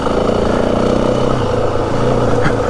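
A 2025 Yamaha WR 450F dirt bike engine pulls steadily in second gear over rocky trail, a loud continuous close-up motor drone with small throttle swells and no pauses.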